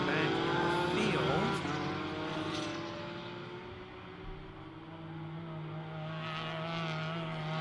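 A green Ferrari race car's engine howls on a circuit and fades through a hairpin, a loud high wail falling and shifting pitch across several seconds while a commentator talks over it.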